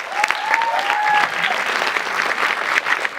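Loud audience applause at a Model United Nations closing ceremony, dense clapping from a crowd with faint whoops and cheers mixed in, steady throughout.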